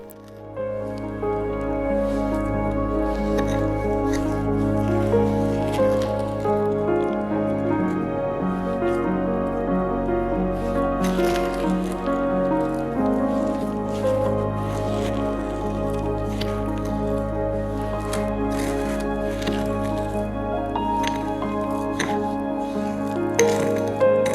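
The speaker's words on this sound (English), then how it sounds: "I simply mix the mixture into the sugar scrub base until fully incorporated." Thyme and mint being stirred into a sugar scrub base, close squelchy, wet mixing sounds with repeated scraping strokes over a low continuous hum.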